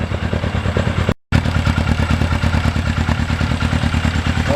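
A motorcycle engine fitted with an FCR carburetor runs steadily at a loud, close idle, its pulsing throb continuous apart from one brief cut-out.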